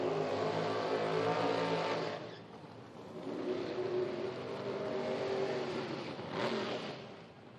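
Hot rod class drag cars launch down a quarter-mile strip, their engines roaring loud and sustained, easing briefly then surging again with a sharp rise near the end.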